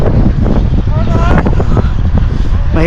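Wind rushes past the microphone while riding in a cycling club peloton, a loud, constant buffeting roar with low rumble, faint voices and road noise mixed underneath.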